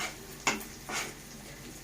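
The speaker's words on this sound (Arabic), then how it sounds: "هنزل عليه كوبايه اللبن وايدي فيه علشان خاطر ما يكلكعش معايا" Spoon stirring milk into browned flour and ghee in a pot for béchamel sauce, with a few soft scraping strokes against the metal and a sharper clink at the end.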